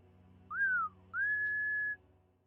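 A person imitates a loud whistle, giving two clear tones in a row, the first short and sliding down, the second longer and held steady, with nothing else in the background.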